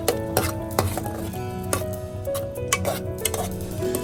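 A pan of chicken gizzard adobo with vinegar being stirred, with a steady run of close clinks and scrapes of the utensil against the pan over a low simmering bed, and no talking.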